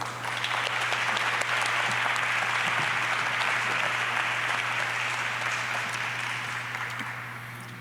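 A concert-venue audience applauds to welcome a speaker onstage, a dense, steady wash of clapping that holds loud and even throughout, then starts to thin slightly near the end.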